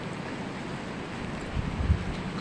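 Strong typhoon wind roars steadily in a dense rumble, swelling into a heavier gust near the end.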